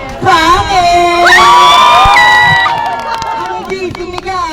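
Large group at a summer outing yelling and cheering loudly, with high excited shrieks and whoops swelling in the middle and tapering into scattered shouts.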